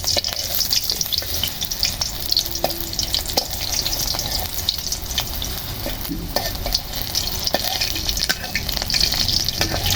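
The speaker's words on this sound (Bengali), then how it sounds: "এই যে কড়াইতে দিয়ে দিচ্ছে বকফুলের বড়া" Sesbania flower fritters fry in a wok, a continuous loud sizzle and crackle of hot oil with occasional scraping stirs, heard up close with no talking.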